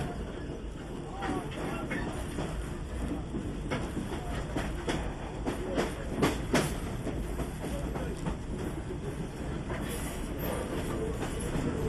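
Heritage train on the George to Knysna branch line along the Indian Ocean coast, a steady rolling rumble with repeated clickety-clack wheel beats and occasional sharper knocks, continuous and fairly close.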